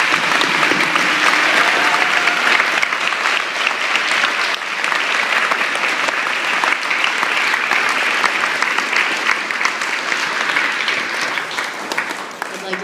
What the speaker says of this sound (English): We would like to honor you with one last round of applause before we end our assembly today.